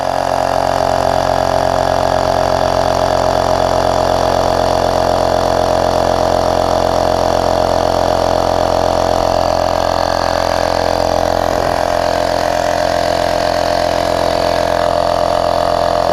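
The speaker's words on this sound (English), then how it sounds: "so it's not the fastest pump, but it seems to work pretty well" A cordless tyre inflator pump runs in a steady, loud mechanical drone with a buzzing hum that holds even and unbroken throughout, with no talk.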